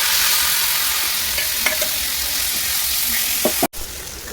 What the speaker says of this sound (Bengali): এইবার ডালটা ঢেলে দেবো।